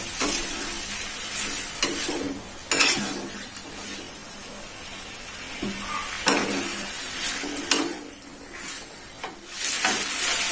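Eel sizzles steadily while frying in a hot pan for rica belut, with intermittent scrapes and clatters as it is stirred, close and continuous with no talking.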